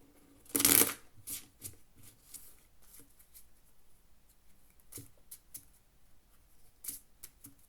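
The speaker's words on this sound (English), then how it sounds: "And I'll shuffle those." A deck of playing cards is shuffled at a poker table, with one loud riffle burst early on followed by a series of softer, sporadic card taps and slides spaced over several seconds, close and without talk.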